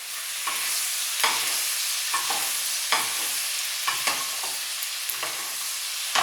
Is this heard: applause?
no